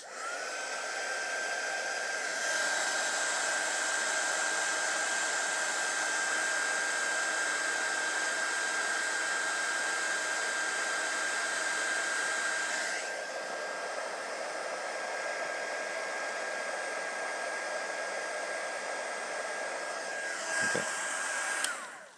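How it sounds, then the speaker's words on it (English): A heat gun blasts hot air while shrinking tubing on Prusa 3D printer bed wiring, a loud, steady whooshing hiss with a high whine that drops slightly in level midway and cuts out near the end, with no talk. "And then fire up my heat gun."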